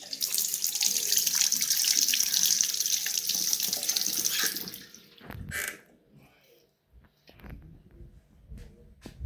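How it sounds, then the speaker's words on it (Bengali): Tap water runs steadily into a sink while a spoon is rinsed, loud and continuous for about five seconds before stopping, followed by quieter clinks and handling sounds. "চামচটা ভালো করে ধুয়ে নিই"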